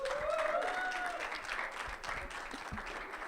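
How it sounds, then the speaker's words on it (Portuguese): An audience applauds at a music industry business workshop, broad steady clapping filling the room for a few seconds with a faint voice briefly audible over it. "Vamos aplaudir, sacudir, assoviar"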